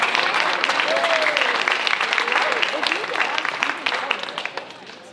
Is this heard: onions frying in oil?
no